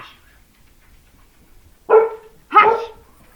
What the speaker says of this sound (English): Go outside if you're gonna bark.